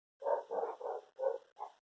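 Street dogs bark five times in quick succession, a clear, fairly close series of short barks with brief gaps and no talking.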